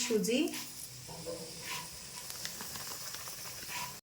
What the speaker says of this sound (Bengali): সুজিটা সুন্দর করে ঘি দিয়ে একটু ভেজে নিচ্ছি।